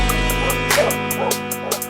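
Dogs bark and yip in several short bursts over a steady background hum, with small dogs sounding close by amid a room full of animals.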